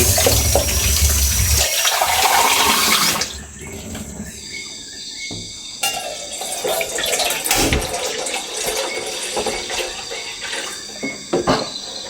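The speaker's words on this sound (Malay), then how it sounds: "kita masukkan air." Water pouring loudly into a pot for a few seconds, then quieter splashing and clinking of cookware, close by.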